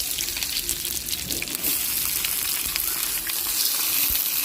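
Para fish (barracuda) fries in coconut oil in a pan, cooked in banana leaf. A loud, continuous close-up sizzle and hiss crackles steadily throughout.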